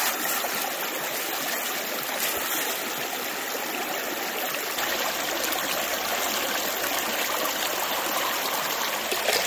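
Steady rushing and splashing of water pouring through a gold prospecting sluice outdoors, a continuous broadband wash with no pauses and no voices.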